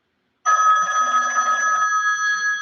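A telephone rings loudly with an incoming call after a brief silence, a sustained electronic trilling tone that holds steady and close for about two seconds, alone without talk.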